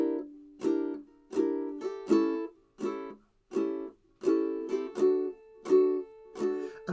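Ukulele strummed with the fingernails, every chord muted, giving a steady rhythmic run of short choppy strums, close and fairly quiet, with no talking.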